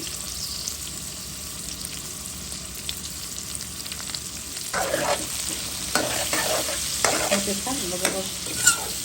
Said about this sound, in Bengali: দিয়ে দেবো আলু, একসাথে ভেজে নেব।